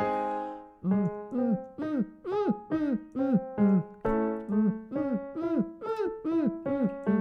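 A voice sings a repeated vocal exercise of short punchy syllables that swoop downward in pitch, imitating a kick drum, in a steady rhythm, alone and close.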